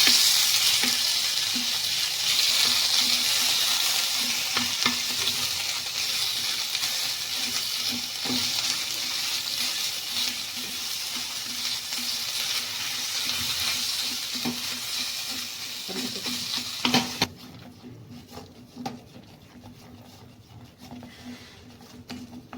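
Steady frying sizzle of khoa roasting in ghee in a pan over low heat for most of the stretch, with occasional stirring scrapes, then dropping to a quiet hiss near the end.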